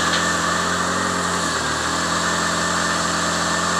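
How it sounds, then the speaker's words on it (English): Car engine running steadily while the clutch is let out in each gear on a freshly rebuilt transmission, a constant mid-pitched drone with slight vibration, close and even throughout. "We'll go ahead and let the clutch out in each gear,"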